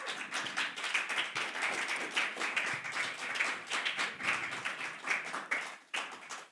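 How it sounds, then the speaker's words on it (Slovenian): Audience applause fills a poetry slam evening at a Ljubljana poetry festival, a dense, steady wash of many hands clapping for the finalists, fairly even in loudness throughout with no talk over it. "En aplavz."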